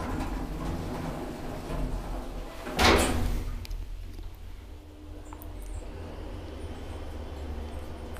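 An Otis traction elevator in an apartment building in Oulu, Finland, runs its automatic doors, a brief sliding rumble and thud close by, followed by low machinery hum.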